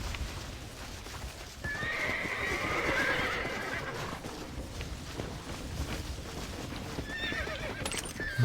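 Horse whinnying in Red Dead Redemption, a loud neigh rising over clip-clop hooves, followed by steady trotting and a second, shorter whinny near the end.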